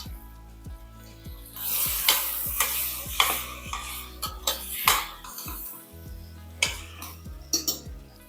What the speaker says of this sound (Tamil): பாருங்கள் எல்லாமே நல்லா வதக்கிடலாம்